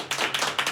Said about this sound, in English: That should have been filled with some applause.